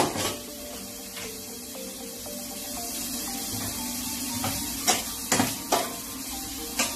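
Onions sweat and sizzle gently in a frying pan, a steady soft hiss with occasional sharp scrapes and taps of a utensil stirring them near the end.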